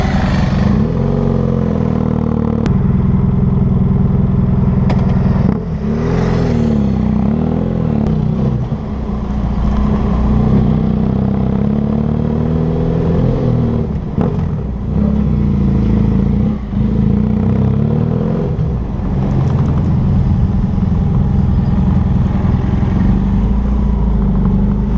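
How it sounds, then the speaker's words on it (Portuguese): A motorcycle passes by outdoors, its engine droning loud and close, rising and falling steadily over a continuous low rumble of traffic noise, with no talking. "Passou por aí uma moto"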